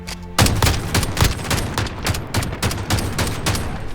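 Rapid automatic gunfire in the video game Call of Duty Modern Warfare on the Docks map, a loud close burst of dense repeating shots running steadily for several seconds.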